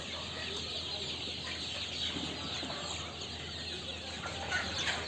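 Chickens cluck and squabble, pecking at one another inside a poultry shed, the calls soft and layered against a constant background hum.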